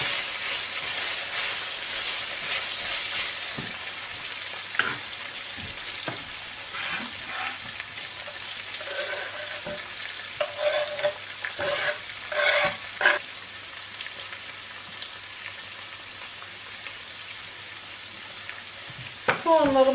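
Meat sizzles steadily in a hot pan, broken by scraping and clinking as it is stirred every few seconds, close and moderately loud.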